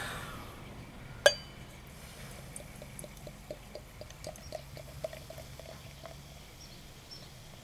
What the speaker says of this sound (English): Okay, it's poured with a little bit of a haze to it.